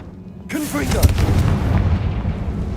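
A Confringo blasting spell exploding in Hogwarts Legacy, a sudden loud boom that bursts in and rolls into a sustained rumbling blast, with a brief voice at the onset.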